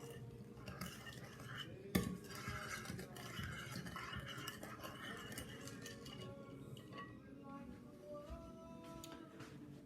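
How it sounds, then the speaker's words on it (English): A spoon stirs a sugar mixture in a bowl, making soft, quiet scraping and clinking with one sharper knock near the start, over low background noise. "Stir it together a little bit."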